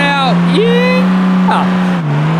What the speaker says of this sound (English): There we go, second gear burnout.